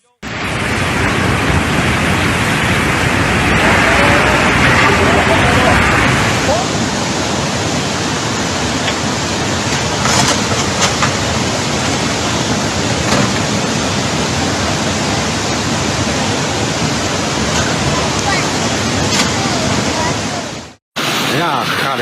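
Hail pours down during severe flooding in China, a dense, steady hissing roar that fills the whole stretch and shifts in tone partway through, with a voice faintly under it before it cuts off near the end.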